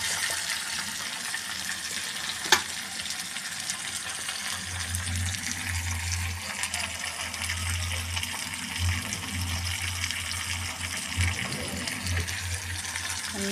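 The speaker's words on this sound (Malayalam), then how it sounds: "ഇനി നന്നായിട്ട് ഫ്രൈ ആവട്ടെ." Sardines frying in a pan, a continuous, even hiss and crackle of hot oil heard close, steady for the whole stretch with a low hum underneath and one brief sharp tap.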